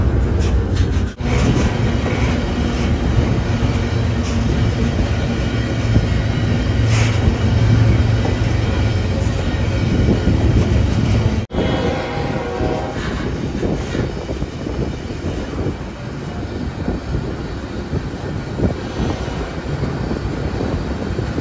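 Steady rumble of a passenger train heard from on board during a cross-country rail journey in the USA, a continuous loud roar with faint clickety-clack and a brief abrupt break partway through.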